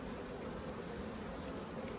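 Honey bees in an opened hive make a dense, continuous buzz, steady and close throughout with no talking.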